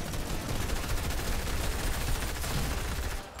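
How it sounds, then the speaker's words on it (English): A minigun fires in the Fortnite video game, a dense, sustained rattle of rapid gunshots that stays loud and continuous before cutting off abruptly. "You can always grab a minigun and just demolish everything just like that."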